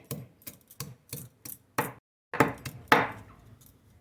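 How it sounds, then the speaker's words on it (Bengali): Ginger and garlic being crushed: a run of about six evenly spaced dull strikes, then a brief pause and a few heavier, rougher blows, close and clear with nothing else behind them. "প্রথমে এই আদা আর রসুন একটু থেতো করে এর মধ্যে দেব"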